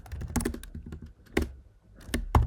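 Fingers tap on a computer keyboard in quick, uneven bursts of close, crisp keystrokes with brief gaps between them, no talking.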